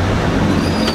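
A Chevy Astro van accelerates at full throttle, its engine and road noise making a steady, loud, continuous drone for under a second with no talk.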